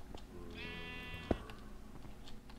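A sheep in a video game gives a single drawn-out bleat, fairly clear against a low game background, followed by a sharp click.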